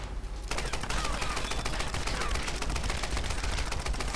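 Rapid gunfire in the Tomb Raider video game as enemies shoot at the player, dense continuous bursts of shots starting suddenly and sustained near and loud throughout.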